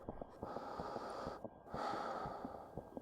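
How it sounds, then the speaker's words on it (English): Slow, deep breaths drawn in and pushed out, a couple of long airy inhales and exhales with brief pauses, close and fairly quiet. "Take some deep breaths."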